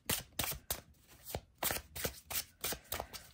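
Tarot cards are riffled and shuffled in quick repeated bursts, a crisp flutter of stiff paper repeating about eight times at close range.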